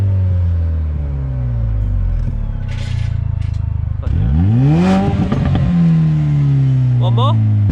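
A Mercedes-AMG CLA 45 engine revs up with exhaust valves open, a deep, booming exhaust roar, pitch climbing sharply then falling back to a rumbling idle, close by.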